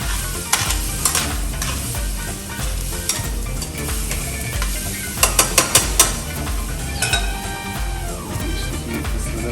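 Seafood cioppino with clams cooks in a pan, giving a steady bubbling sizzle with scraping and a few sharp clinks of a utensil against the pan near the middle, close and fairly loud, with no voices.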